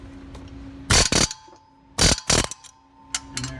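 An air tool loosens a fan clutch nut in sharp, loud bursts of rapid hammering: two quick bursts, a pause, two more, then a couple of shorter blips, with quiet between them.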